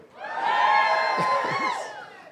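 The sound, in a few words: crowd cheering at inauguration speech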